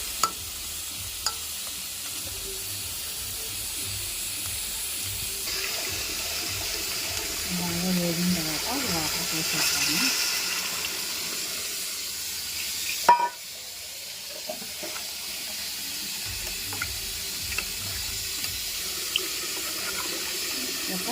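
Water is poured into a pressure cooker holding tamarind-leaf mutton curry, giving a soft splashing and gurgling in a quiet kitchen, with scattered clinks of utensils before and after.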